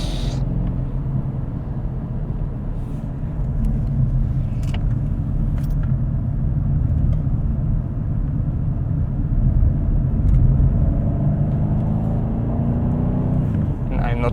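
A BMW M850 driving along, its engine a steady low rumble with rising and falling revs, heard from inside the car with light background noise throughout.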